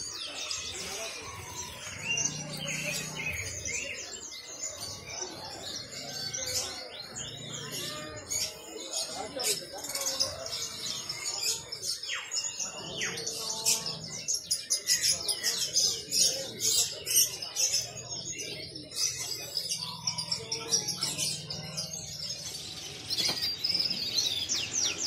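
Male AF canaries in a caged group keep up a busy stream of bright chirps and trilling song throughout, near and lively, while someone talks in the background.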